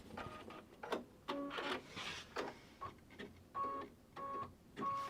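An embroidery sewing machine trimming its thread, a series of faint mechanical clicks and short whirring pulses repeating in an irregular rhythm, close and quiet.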